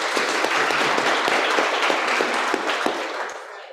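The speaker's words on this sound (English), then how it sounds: "Let's give them all a round of applause" An audience at a Rotary club meeting breaks into dense, steady applause, loud and close, tapering off at the end with a faint voice underneath.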